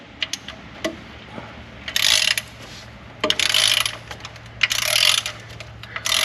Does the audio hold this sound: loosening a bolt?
yes